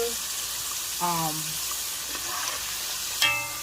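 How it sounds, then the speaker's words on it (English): Steady crackling sizzle of fish deep frying in hot oil, with a few brief clinks and scrapes of a utensil over it. "being that I'm deep frying them"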